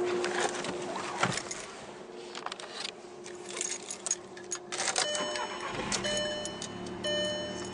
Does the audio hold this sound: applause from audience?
no